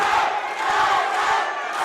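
A boxing arena crowd chants loudly in unison for fighter Juan Miranda, a dense roar of many voices rising and falling in rhythm throughout.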